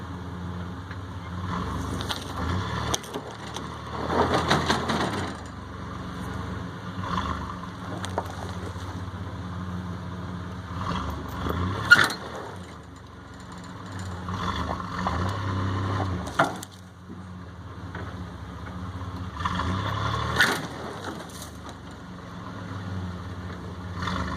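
A 1996 truck's engine strains and surges while pulling tree roots from orchard ground with a chain, with revving swells, creaks and sharp cracks from wood and chain, close and fairly loud throughout.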